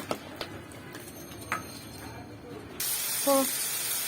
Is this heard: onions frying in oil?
yes